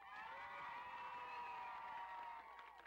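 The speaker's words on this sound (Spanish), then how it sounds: "¡El aplauso para Betty!" A crowd cheers and whoops with scattered clapping for a contestant on a Nicaraguan audience show, a sustained, fairly distant din lasting a few seconds.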